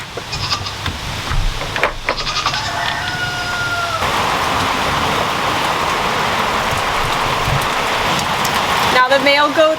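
Rain falls steadily on a farm, a constant hiss with goats bleating and poultry calling at intervals, and a person talking at times over the downpour.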